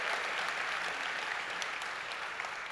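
An audience at a Bonita High School spring concert claps in a steady, dense wash of applause that fills the room, loud and continuous, with no distinct voices.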